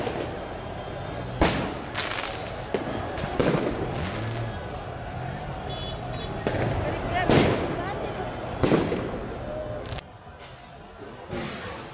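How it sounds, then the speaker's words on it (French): Fireworks burst and crackle amid traffic on the Champs-Elysées during a chaotic street celebration after PSG reached the final, sharp bangs scattered irregularly over a loud, dense crowd and street roar. "Des feux d'artifice éclatent au milieu de la circulation."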